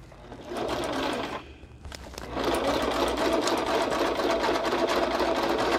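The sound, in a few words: sewing machine sewing around card edge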